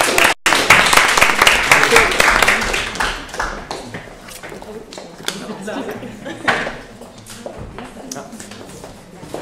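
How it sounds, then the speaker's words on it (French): An audience at a human-resources symposium quiz applauds after the final score, the clapping loud at first then thinning out and fading, with voices talking over it. "On peut applaudir"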